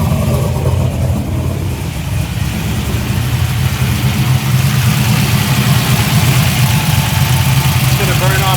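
An old barn-find car engine idles steadily after starting, a loud continuous mid-to-low rumble with slight fluctuations and a faint rev lift near the end.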